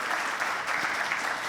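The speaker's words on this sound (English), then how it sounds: "Please give him the biggest round of applause." Audience at a summit dialogue on education and workforce claps to welcome a guest speaker, a brief, full burst of continuous applause from a sizeable crowd without speech.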